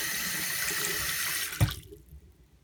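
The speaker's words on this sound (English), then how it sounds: "This is a slow draining sink." Running water from a tap into a slow-draining bathroom or kitchen sink, a steady hiss that cuts off with a small clunk, leaving faint trickles and gurgles as the water sits.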